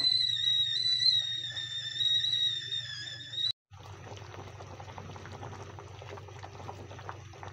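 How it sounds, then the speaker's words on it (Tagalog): Freshly boiled water is poured out while cooking soup for breakfast. A high, steady tone runs first, then stops briefly, and a close, continuous gushing pour follows. "sasalin ko muna ang aking initubig"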